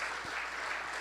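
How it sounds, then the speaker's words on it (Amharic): Congregation applauding in a church service, a continuous dense patter of many hands at steady loudness, somewhat distant, brief and without talk. "እስኪ አጨብጭቡ ለዚህ ቃል"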